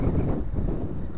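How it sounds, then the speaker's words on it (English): A strong gust of wind roars against the microphone during an outdoor ride, a loud, steady low rumble filling the moment without speech. "That's a strong gust."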